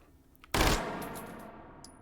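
A Micro Uzi submachine gun in the shooting game H3VR lets off one abrupt, loud burst of fire from a closed bolt. A ringing tail fades over the next second, followed by a few faint metallic clicks.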